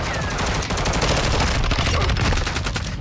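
Rapid automatic hipfire gunfire in a Call of Duty multiplayer match, a dense, loud, continuous burst of shots lasting the whole stretch with barely a pause.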